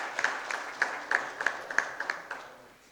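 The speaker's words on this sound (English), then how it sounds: "let's give him a warm round of applause and welcome him in our midst" Audience applause welcoming the governor at a symposium, a sparse, rhythmic run of individual claps from a small group, fading out over a few seconds.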